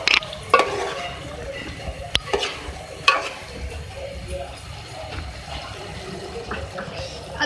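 Chopped coriander is stirred into a chicken and cauliflower dish in a pan, with scraping spoon strokes and a few sharp clinks over a low sizzle, close and fairly loud.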